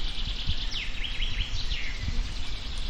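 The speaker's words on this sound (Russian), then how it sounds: "Птичка ест наших опариков." A small bird chirps near a feeder-fishing spot on the Khoper river while pecking at the maggot bait. Quick, faint chirps come in short bursts over a low outdoor rumble.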